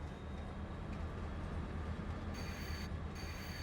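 Rolling train wagons in Farming Simulator 22, a steady broadband rumble of wheels on rails with a faint high squeal, continuous and fairly loud throughout.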